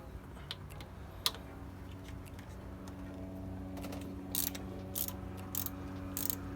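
A 12mm wrench ratchets thermostat housing bolts loose on a Mazda Miata, producing quiet rhythmic clicking in short bursts and sharper metallic clicks near the end, faint and close, with no talk.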